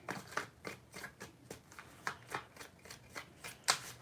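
Tarot cards being shuffled by hand, quiet crisp riffles repeating in a regular rhythm of short bursts, close and soft with no talking.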